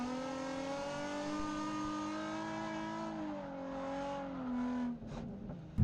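Drift car engine holding a high, steady rev as it crosses the finish line in a drift competition, the pitch sliding slightly and then dropping off sharply near the end.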